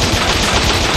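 Machine gun fire in the video game Bot Vice sounds as one loud, rapid burst of automatic shots lasting about a second, close and dense, with no talk.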